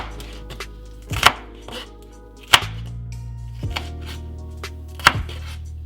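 A knife chops green onions on a cutting board in a home kitchen, giving a few sharp, separate thuds several seconds apart with quieter cuts between them, close and clear with no voices.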